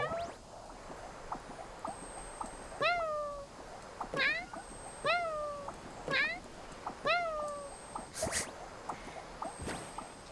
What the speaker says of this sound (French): J'adore, elle fait miaou,